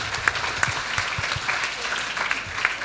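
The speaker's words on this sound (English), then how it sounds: "Give round of applause for everyone." An audience claps together at the end of a talk session, with steady, moderately close applause lasting a few seconds and no voices over it.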